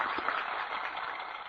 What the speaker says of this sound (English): That applause.